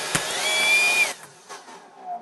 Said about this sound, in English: We've got this giant leaf blower